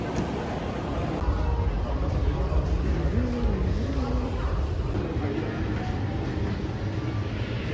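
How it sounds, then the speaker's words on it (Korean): Train interior on arrival at Seoul Station, a steady loud rumble of the carriage with a high electrical whine and brief tonal chimes, under faint voices. "서울역 도착"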